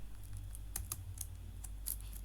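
Code is typed on a computer keyboard in a quick run of light, close key clicks with an uneven rhythm, soft and isolated with no talking.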